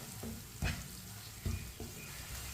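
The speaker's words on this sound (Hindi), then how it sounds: "कम आंच पे मसालों को 1 मिनट के लिए पका लेंगे अच्छी तरह मिक्स करके।" Spices frying over low heat in a pan for masala bhindi, with broadband sizzle and a few soft stirring scrapes recurring at intervals, fairly quiet and close, with no talk.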